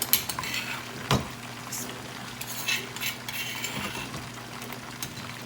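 A soft, steady sizzle of garlic, ginger and green chili paste frying in hot oil, with an occasional clink of a utensil stirring the pan.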